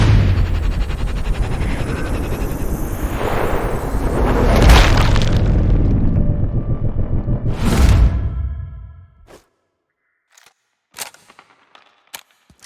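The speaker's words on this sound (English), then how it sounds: "I just heard gunshots." Heavy bursts of gunfire and booming blasts in the video game Sniper Ghost Warrior Contracts 2 roll on for about eight seconds, then fade to near silence broken by a few sharp, sparse clicks.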